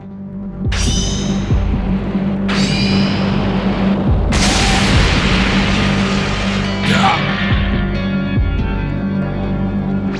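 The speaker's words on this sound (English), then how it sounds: "An explosion intervenes and takes priority over the situation." Explosions in a Dragon Ball anime scene on Namek: several loud, broad blasts at intervals, each rolling into a dense roar over a steady low drone, with some voices mixed in.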